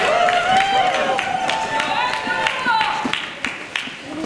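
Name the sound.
applause for rally speakers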